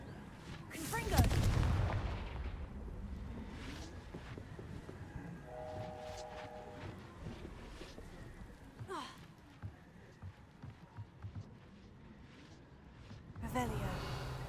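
Confringo fire spells from Hogwarts Legacy burst with a loud blast near the start, a rumbling tail, and another burst at the end, while game effects and speech sound underneath.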